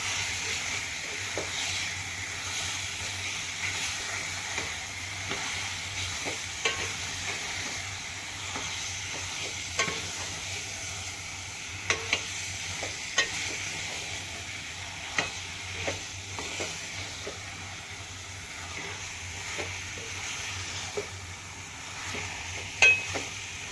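Chicken pieces being stirred and fried with whole spices in a pan for biryani, a soft continuous sizzle with repeated scraping clicks of the spoon against the pan.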